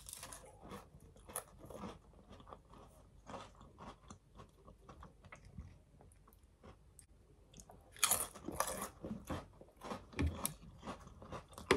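Close, crunchy chewing of an Indian takeaway with mango chutney and pilau rice, soft wet bites and crunches repeating unevenly with no speech.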